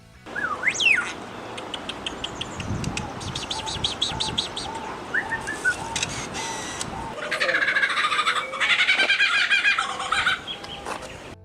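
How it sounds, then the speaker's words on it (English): A lyrebird sings a varied, elaborate song of whistles, rapid chirping trills and mechanical-sounding clicks, close and loud, with many shifting phrases. "the song of the lyrebird is like no other"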